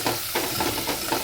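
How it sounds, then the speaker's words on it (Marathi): Hot oil sizzling loudly and steadily as a Maharashtrian tempering (phodni) is made for village-style veg biryani, a dense close hiss with faint stirring pulses underneath. "चला तर आता फोडणी दिलेली आपण."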